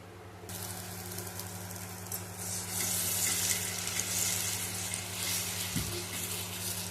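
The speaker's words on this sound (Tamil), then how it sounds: "கொஞ்சம் கல்லில் அடியில் எண்ணெய் விட்டுட்டு இதை சின்ன சின்ன அடைகளை ஊற்றி மூடி வச்சு வேக வைக்கணும்" Rice adai batter cooking in oil on a hot griddle, a continuous close sizzle with bright crackling that swells after the batter goes on, with a brief low thump partway through and no talk.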